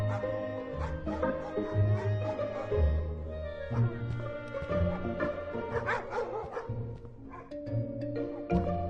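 Several dogs at an animal shelter bark and yip together in a busy, overlapping chorus, some whimpering in between, fairly close and continuous for several seconds with echoing kennel-like sound.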